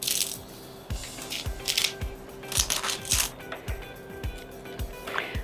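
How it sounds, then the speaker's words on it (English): Scissors snip off ribbon ends after a small bow is tied, giving a series of short, crisp cuts at a fairly steady pace, close up and quiet, with light rustling between them. "And now I'm gonna snip all this off."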